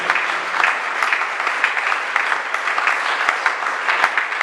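Church congregation applauding and cheering, a dense, steady wash of clapping with a few sharper claps standing out, loud and continuous throughout.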